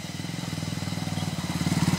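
Motorcycle engine running steadily while riding on a road trip to a waterfall in Dhading, Nepal, with a close, even pulsing throb that grows slightly louder toward the end.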